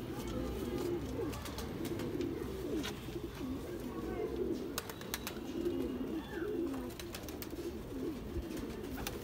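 A female green Gajri pigeon of the Rampur breed coos in low, throaty rolling phrases, close by and repeated throughout over a busy background hum, with faint voices nearby.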